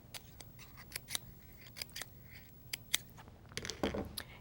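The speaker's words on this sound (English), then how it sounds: "And I'll just trim a little fringe around the edge. Just cutting right to the eye." Scissors trim a paper fringe for a kids' craft in a string of short, crisp snips, close and fairly quiet, with papery rustling toward the end.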